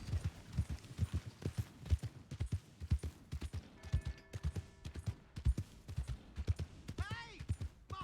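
Steady clip-clop of horse hooves in Red Dead Redemption 2, a brisk rhythmic trot close by, with brief talk and a short whistle near the end.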